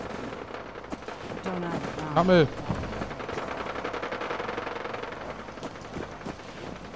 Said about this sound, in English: There's gunfire back here.